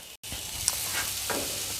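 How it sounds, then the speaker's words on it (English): Steak bites sizzle steadily in a hot pan, a close, continuous crackling hiss with a faint clink partway through. "I can hear it sizzling, so that's awesome."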